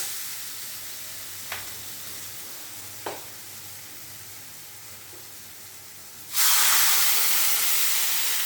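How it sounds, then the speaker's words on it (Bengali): Water is poured into a hot pan of fried spices for a thin rohu fish curry with potatoes and greens, giving a sudden loud, steady hiss and sizzle after a quieter simmer with a couple of clinks. "আমার মশলাটা কষানো হয়ে গেছে, আমি এবারে জল দিয়ে দিচ্ছি"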